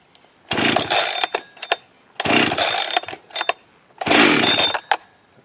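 A Holzfforma G372XT chainsaw, choke on and no primer, is pulled three times; each pull brings a brief loud sputtering burst that dies off, separated by short quiet gaps.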